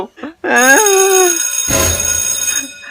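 A mobile phone rings with a short electronic melody in a comedy sketch, loud and close, followed by a burst of noisy sound after a brief voice at the start.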